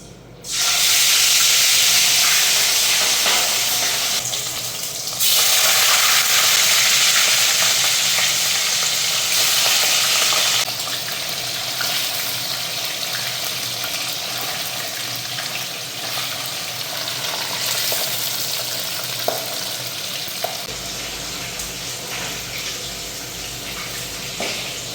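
Hilsa fish frying in hot oil, a loud, dense, continuous crackling sizzle close up that swells and eases in intensity over a long stretch, with an occasional faint clink, no voices.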